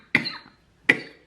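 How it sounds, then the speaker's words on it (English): Two sharp, separate coughs from a single person, close and fairly loud, each a harsh burst that tails off quickly, with a short silent gap between them and no talking. "Like, literally just started coughing out of nowhere."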